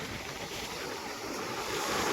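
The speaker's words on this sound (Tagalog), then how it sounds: "dambuhala na naman ang mga alon natin" Big ocean waves surging onto a beach in rough weather where fishing boats come ashore, a steady loud wash of surf with wind buffeting the microphone throughout, no voices.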